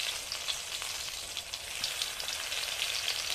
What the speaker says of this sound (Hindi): ये देखिए तेल में हम डाल दिए हैं, भाजा मेरा बन रहा है।